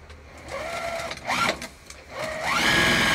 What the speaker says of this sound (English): you're going to sew all the way around this pocket without sewing on your back panel